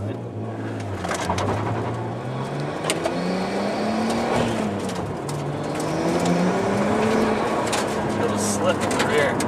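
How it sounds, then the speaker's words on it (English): A Nissan Skyline ECR33 on a drive, heard from inside the car: the engine note rises and falls through gears under road rumble, with someone talking over it. "here we are in ECR 33. Go for a little ride."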